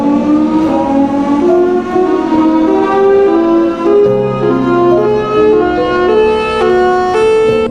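A Thunderbolt 1003 siren wails loudly and steadily, its layered harmonic tones shifting slowly in pitch throughout, close and alone with no voices.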